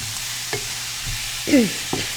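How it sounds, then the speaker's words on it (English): Steady sizzling hiss of onions and cauliflower rice frying in a pan, with a few soft scrapes and stirring taps, close up and no voices. "Start frying up our veggies."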